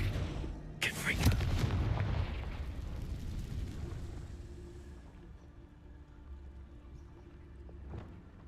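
A fire-spell blast from Confringo in Hogwarts Legacy erupts loudly near the start, a booming burst that rolls and fades into a low rumble, with another faint thud near the end.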